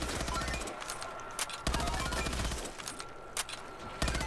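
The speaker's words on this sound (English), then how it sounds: "Alright, let's see how good the AK is." Rapid automatic AK rifle fire in a video game, loud and dense bursts of gunfire. A brief pause breaks the bursts midway before the firing resumes.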